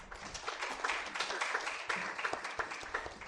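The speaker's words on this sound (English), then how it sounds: "let me invite you to give a big round of applause to the panelists" Symposium attendees give the panelists a warm round of applause, a dense, even patter of many hands heard throughout the hall.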